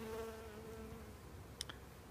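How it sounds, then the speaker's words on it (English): A honeybee buzzes close by near a gloved hand during hive work, a faint, thin, steady drone with a couple of brief clicks near the end. "I had a bee there trying to nip on my hand"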